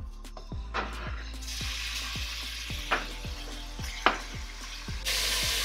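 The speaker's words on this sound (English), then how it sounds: "Then I'm gonna throw in my beef." Beef dropped into hot oil in a pan for a Thai spicy sour soup, frying with a steady close sizzle, punctuated by rhythmic scraping and tapping of a utensil stirring the meat.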